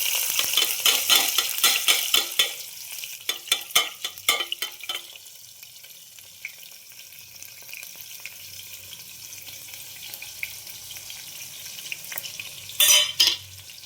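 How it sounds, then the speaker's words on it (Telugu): Mustard seeds, cumin and onion sizzle in hot oil, with a strong hiss and crackle at the start that settles into a quieter steady fry, broken by clusters of spoon scrapes and stirring clatter. "ఇప్పుడు ఆవాలు, జీలకర్ర, ఎర్రగడ్డ అయితే వేసేసుకుందాం."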